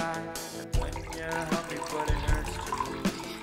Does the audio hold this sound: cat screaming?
no